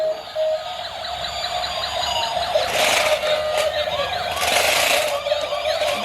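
Toy ambulance and gendarmerie car sirens wail together indoors, a steady electronic warble running continuously with overlapping bursts of brighter noise, close and fairly loud, with no talking.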